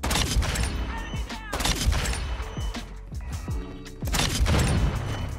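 Gunfire rattles in a Modern Warfare 2 match played with the Lockwood MK2 carbine. Loud, close bursts of shots and booms come in quick clusters over the whole stretch.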